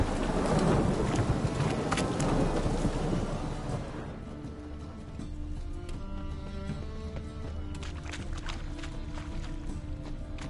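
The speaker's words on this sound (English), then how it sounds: "Raining again." Rain and thunder in a PS4 video game, a heavy rumbling wash of rain and thunder at the start that eases into a steady, quieter rainfall.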